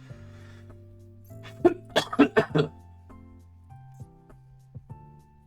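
A sick person gives a short burst of several rapid coughs, close and loud, during an online card game session, with quiet tonal game music and sound effects running underneath.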